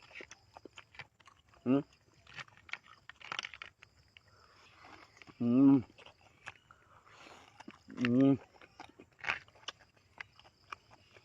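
Someone eats crunchy, crisp squid up close, with scattered bites and chewing crunches between short bursts of talk.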